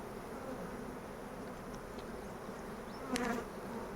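A dense, steady buzzing of many honeybees in a queenless hive fills the air, close and continuous, with a few louder passes near the end.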